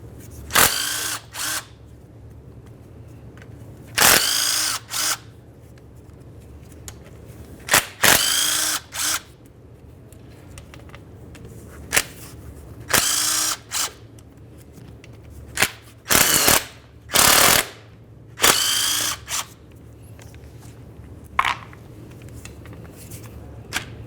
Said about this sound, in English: removing all of your 8mm headed mounting bolts